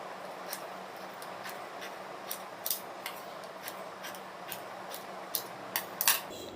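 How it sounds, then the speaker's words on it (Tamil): Scissors snip through blouse fabric for a rose decoration in a series of crisp, close, irregular cuts over a faint steady background hum, with a brief cluster of sharper snips near the end. "இப்போ இதை கட் பண்ணிக்கலாம்."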